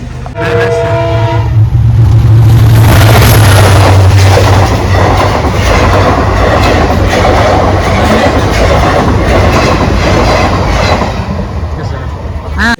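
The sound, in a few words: train passing at a railway crossing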